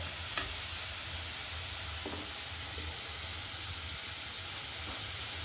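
Carrots, beans and onions sauté in a pan with a soft, even hiss and sizzle, a few faint stirring clicks, beneath a low steady hum.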